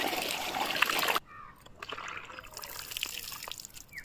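Water splashes loudly in a garden while karonda fruit is being harvested near Kothavalasa, Vizag. After a sharp cutoff it gives way to quieter trickling and dripping with faint scattered sounds.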